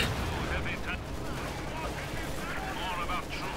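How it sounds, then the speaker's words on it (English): Field guns and grenades fire in a Company of Heroes 2 battle, with a steady din of booming shots and scattered blasts that continues throughout, and voices partly mixed into the noise. "Opening up the field guns, we've got grenades going off."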